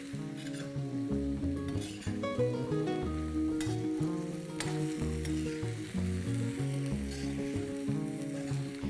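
Prawns with turmeric powder and salt fry and sizzle in a pan as they are stirred, a steady crackling hiss running under louder background music.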